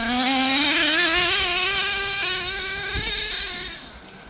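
An HPI Savage XL V2 RC monster truck drives hard in first gear, its high-pitched engine whining loudly and steadily with a slight wavering pitch before fading near the end.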